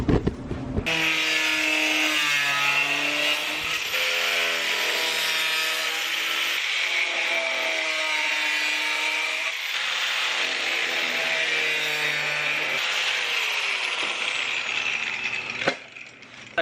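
A car bumper being cut for a custom widebody kit, a continuous close, loud, harsh power-tool cutting whine with shifting pitch for about fifteen seconds, ending abruptly.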